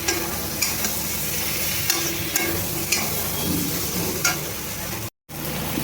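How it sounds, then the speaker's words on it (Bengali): Prawns being fried and stirred with potato and pumpkin in spices, a steady close sizzle broken by periodic spatula scrapes against the pan, with a short silent gap near the end. "এবার আমি চিংড়ি মাছটা দিয়ে আবার একটু ভালোভাবে কষিয়ে নেব"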